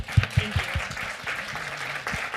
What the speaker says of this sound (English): Everybody, please give Jim a round of applause.